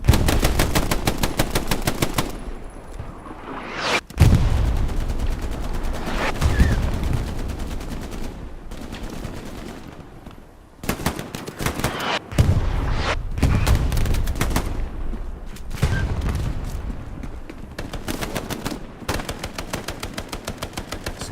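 Gunfire in the video game Hell Let Loose on the Carentan map, dense automatic bursts and heavy rapid shots crackling almost continuously, loud and close with brief gaps between volleys.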